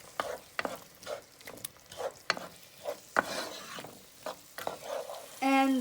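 A spoon stirs cumin, turmeric, curry powder and tomatoes in a pot for curry lentil soup, giving repeated scraping strokes at a steady rhythm with a faint sizzle, close and moderately loud. A brief bright clink comes at the end.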